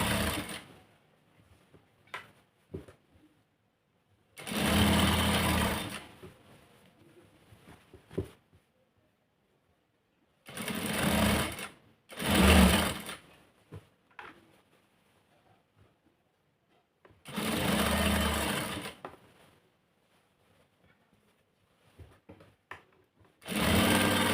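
A domestic sewing machine stitches the hem of a shortened store-bought skirt, running in several close, steady bursts of rapid whirring with quiet pauses between them.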